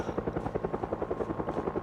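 A helicopter in the Project Zomboid video game flies overhead, its steady rhythmic blade chop and engine drone continuing throughout at a moderate distance, with no talk over it.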